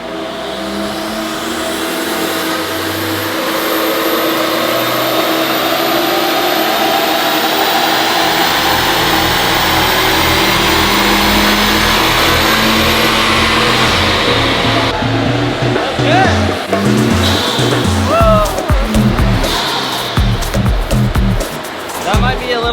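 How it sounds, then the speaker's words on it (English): A Ford Bronco's engine and loud exhaust rev hard on a dyno, a sustained roaring drone climbing steadily in pitch before breaking into choppy revs, with voices talking over it. "Hey, easy, this exhaust is pretty loud."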